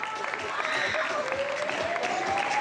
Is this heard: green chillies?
no